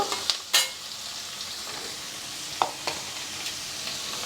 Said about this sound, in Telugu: ఉల్లిపాయ ఫిఫ్టీ పర్సెంట్ వేగితే చాలు